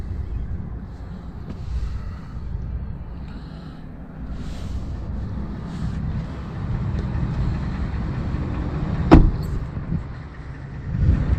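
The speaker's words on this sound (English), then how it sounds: "the truck was running the whole time" A Ford F150 pickup truck with a boosted engine idles steadily in the open, a continuous low rumble with a brief sharp knock near the end and no talk.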